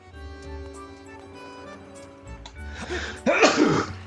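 A single sneeze bursts out near the end, loud and close, following a quieter stretch of game music and faint background sounds.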